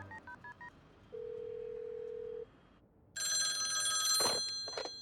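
In a Littlest Pet Shop cartoon, a telephone scene opens with quick dialing beeps and a steady hum, then a bright, loud bell ring bursts in near the end.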